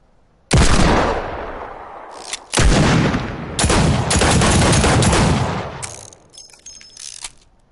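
Deagle pistol fired in Fortnite, several loud, sharp gunshot bursts with ringing tails, spaced apart at a slow rate, followed by fainter clicks and metallic handling sounds.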